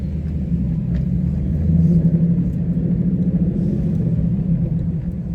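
A modified 2014 Ford Mustang GT's engine rumbles deeply as the throttle is blipped, a brief rise in revs over a steady low burble heard close up from inside the car, with no talking.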